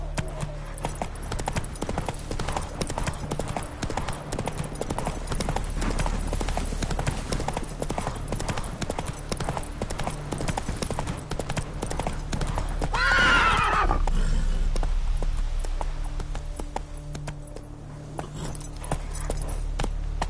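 Horse hooves clip-clop steadily at a gallop in The Witcher 3, with a clear neigh rising midway over continuous game ambience and music.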